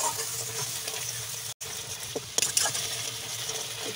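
Spice masala frying in hot oil in a pan for lauki dhoka, a steady close sizzle with a brief gap and a few light clinks of a utensil partway through.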